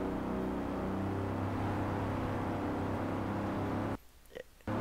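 A car engine in the racing game Forza Horizon 4 drones loudly and steadily with a whining, supercharger-like tone from an old car, then cuts out abruptly near the end before briefly returning.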